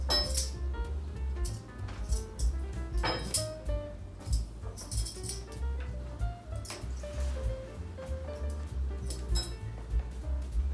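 Metal cutlery clinking lightly against china and glassware while a formal dinner table is set, several scattered chinks at close range over a low steady background hum.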